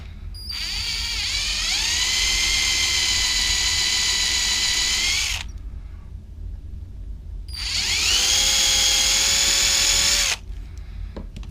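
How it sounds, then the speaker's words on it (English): A power drill bores a centred guide hole into the base of a bullet, whining loudly in two sustained bursts of about five and three seconds, separated by a short pause, close and alone. "Step one is drilling a hole as in the middle as I can in the base of the bullet as a guide for the central reservoir."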